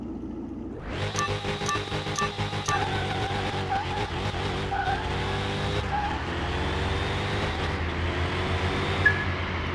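A heavily tuned Porsche Carrera GT drag racing in Car Mechanic Simulator 2021, engine roaring up from a launch with a brief tyre chirp, then revving hard through several gear changes, loud and close, with no talking.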